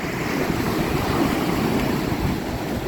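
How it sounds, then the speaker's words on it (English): Ocean waves wash steadily onto the shore near Phare des Baleines on Île de Ré, a dense, continuous surf roar with some wind buffeting the microphone and no speech. "There we go, more waves coming towards me."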